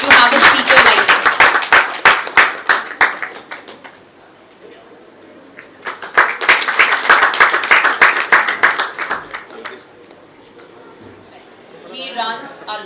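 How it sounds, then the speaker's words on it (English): A conference audience at an entrepreneurs' event bursts into loud applause, a dense burst of clapping lasting several seconds that fades, swells again, then fades, with a voice speaking near the end. "Please give a big round of applause."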